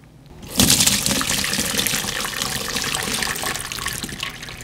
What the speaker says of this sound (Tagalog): Banlawan natin para hindi ma-overcook.